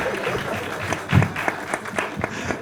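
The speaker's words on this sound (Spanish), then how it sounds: "Vamos a dar un aplauso de bienvenida al capitalismo, Roberto." Audience applause welcoming a panelist at a debate on markets and the state, a burst of clapping that swells then settles into scattered claps, moderately loud in a hall.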